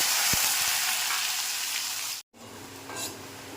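Onion hisses in hot oil with bay leaf, dried red chili and cumin, a steady close sizzle with a few sharp taps early on, a brief break, then the frying resumes.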